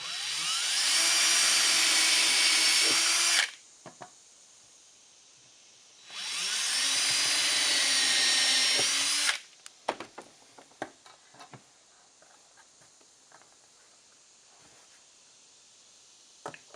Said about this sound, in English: I'm going to go ahead and pre-drill this a little bit.